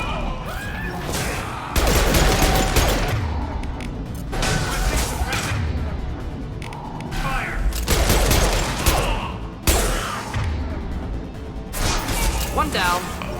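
Bursts of automatic gunfire and impacts from the video game Mass Effect 2 come in repeated volleys with sharp cracks and crashes, loud and close, while voices of characters talk between and over the shots.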